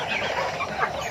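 Free-range village chickens clucking inside a coop, a steady jumble of close, overlapping clucks and murmurs with one louder squawk near the end.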